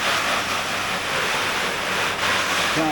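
Rainwater is poured to rinse off a fin, a continuous loud hissing splash of running water that holds steady throughout, with no voices.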